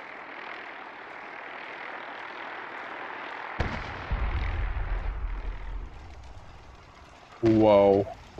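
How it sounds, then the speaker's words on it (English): A huge nuke explosion in the video game Fallout 4 goes off with a sudden deep blast that rumbles for a couple of seconds over steady game ambience, followed later by a brief loud burst. "That was a humongous explosion."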